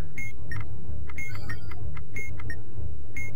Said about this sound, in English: Not the alarm!